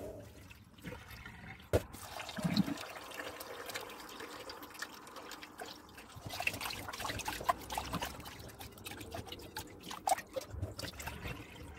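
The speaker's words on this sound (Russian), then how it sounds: "сливаем воду несколько раз, чтобы вода была прозрачная" Water is poured off rinsed rice in a kitchen to clear the starch: soft, intermittent trickling and splashing at low volume, with a few small clinks of the container.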